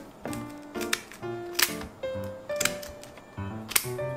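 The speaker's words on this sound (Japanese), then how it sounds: "やばい、ハサミが全然切れん。" Kitchen scissors struggling to cut through the dark fins of a large speared fish, giving a series of sharp snipping and crunching clicks at irregular intervals, close and fairly quiet with no talking.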